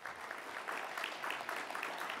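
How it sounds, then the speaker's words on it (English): Audience applause at an alumni business conference, a steady wash of many hands clapping at moderate distance, fairly soft and even throughout with no voices over it. "Please give a round of applause to Carrie."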